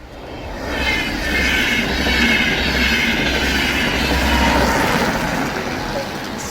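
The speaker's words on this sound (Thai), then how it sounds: "เสียงรถไฟมาพี่น้อง" A train rumbles past nearby in wintry Finland, a steady loud roar of wheels on rails with faint clacking, swelling and holding for several seconds.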